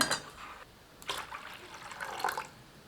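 Water splashes and trickles into gooseberry rasam in a few short pours, close by and fairly quiet, with brief gaps between bursts.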